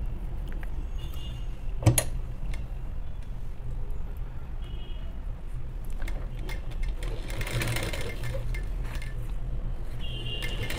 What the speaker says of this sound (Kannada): ಇಲ್ಲಿಗೆ ನಾನು ಒಂದು ಸ್ಟಿಚ್ಚನ್ನು ಹಾಕೊಂಡ್ಬಿಡ್ತೀನಿ